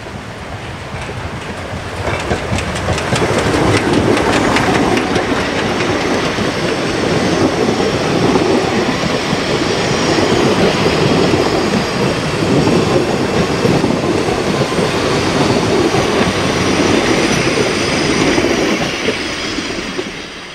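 A steam locomotive train rumbles steadily past at close range on a narrow-gauge line, wheels clattering and squealing under a broad roar that swells, holds for many seconds, then eases off.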